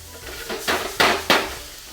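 Tender beef seasoned with pepper and salt, cooking in a pan for homemade Chinese fried rice: soft sizzling under three quick stirring scrapes against the pan.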